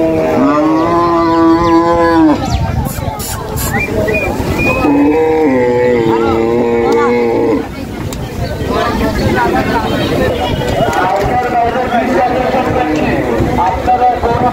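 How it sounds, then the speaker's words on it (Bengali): Cattle at a busy two-day cow and goat market in Hossainpur, Sonargaon, Narayanganj, low drawn-out moos rising repeatedly over a dense crowd murmur, with people talking throughout. "এখনো প্রচুর গরু ঢুকতেছে 2টা গেট দিয়ে"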